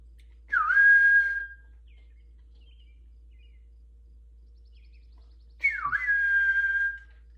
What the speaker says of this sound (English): That's an old high school whistle.